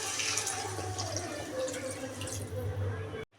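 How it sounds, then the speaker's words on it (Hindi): Water is poured into a vegetable curry of jackfruit or potato with spices in a pan, a steady splashing pour lasting about three seconds before it stops abruptly. "तो अब यहाँ मैं पानी को डाल देती हूँ।"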